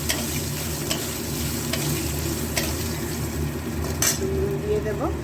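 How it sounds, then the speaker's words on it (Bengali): Potato pieces frying in a pan, giving a steady dense sizzle throughout with a few sharp clinks of a utensil against the pan, close and unbroken by talk. "আগে আলুগুলো ভেজে নিই, একটু আলু দিচ্ছি, আলু দিয়ে করছি আজকে।"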